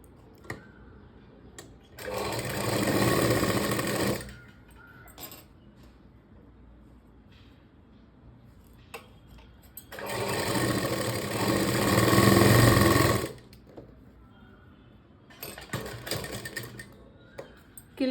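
A sewing machine stitches a three-dot blouse, running in three loud, steady bursts of several seconds each, with quiet pauses between them and no talking.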